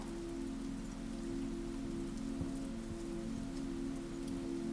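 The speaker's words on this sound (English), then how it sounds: "The rain has softened too." Soft rain patters steadily on surfaces in a cozy indoor setting, a gentle continuous hiss with a low steady hum underneath, quiet and unbroken.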